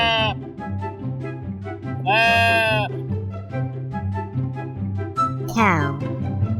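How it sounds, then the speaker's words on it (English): Sheep on a farm bleat in several clear, wavering cries, loud and close, spread across a steady musical backing with a rhythmic beat. "Sheep."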